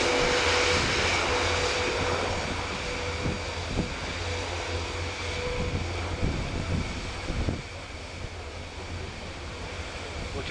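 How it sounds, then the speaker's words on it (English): Boeing F-18F Super Hornet jet at an air show, a loud sustained engine roar that holds steady and then eases slightly as it moves away, with broad rushing noise. "Boeing company test pilot Stephen Schmidt, bringing to an end the noisy routine in the F-18F Super Hornet."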